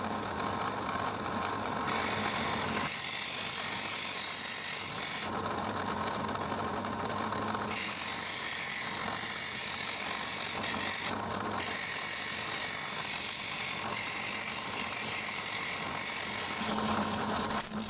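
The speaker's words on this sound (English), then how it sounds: "For these curves, I use the drill press with a sanding roller for rough shaping" A drill press whirs continuously as a sanding roller grinds against wood for rough-shaping a bowl, the tone shifting as pressure changes, with no talking.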